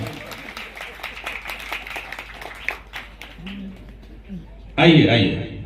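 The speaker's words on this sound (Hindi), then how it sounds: "जोरदार तालियां" Audience at a satsang gathering in Indore applauding: a rhythm of clapping under a voice, then a louder burst of applause near the end.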